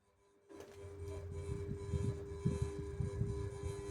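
An SMC Omega KW52 ceiling fan with a clipper light kit starts up, its light shade buzzing with a steady hum and rattly, uneven vibration that grows slightly louder as the motor runs.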